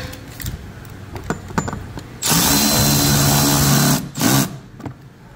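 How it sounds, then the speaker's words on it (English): A power drill drives a 3/8 screw into a metal plate on a Toro TimeMaster 30-inch mower, a loud steady whir for under two seconds, then a brief second burst after light clicks and handling. "get our 3/8 screw, and we're going to go ahead and tighten this back up."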